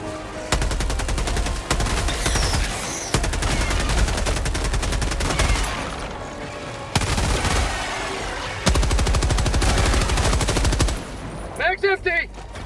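Sustained automatic gunfire in Helldivers II, loud rapid bursts with short pauses between them, and players talking briefly near the end.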